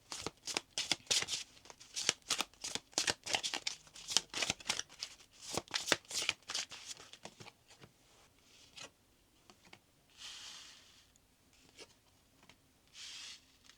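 Tarot cards are shuffled close by in quick repeated riffling bursts with a rhythmic flutter, easing into slower, softer rubbing and sliding near the end.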